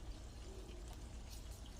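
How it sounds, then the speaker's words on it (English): Marinated sauce poured over homemade meatballs, a faint soft continuous trickle and splash close by, quiet and brief, with no talking. "I'm getting ready to pour my marinated sauce on it now."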